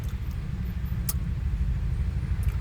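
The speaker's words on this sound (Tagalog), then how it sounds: "ganyan ang daloy ng trapiko." Steady low rumble of heavy road traffic on EDSA in Metro Manila, near Boni heading toward Ayala, with cars crawling bumper to bumper and a continuous engine drone throughout, plus a faint brief high hiss midway.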